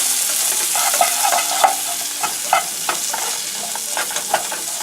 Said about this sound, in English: we are going to stir all of that together so that everything gets